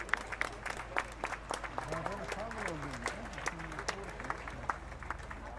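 A crowd applauds a podium finisher at a Porsche Carrera Cup Benelux race at Circuit Zolder, with dense, steady clapping that runs throughout under an announcer's voice.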